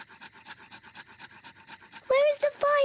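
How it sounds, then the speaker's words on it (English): A cartoon pig rubs two wooden sticks together to light a campfire, making a quick rhythmic scraping that repeats about a dozen times and stays close and soft, then a character starts speaking. "Daddy Pig is rubbing the two sticks together to light the campfire."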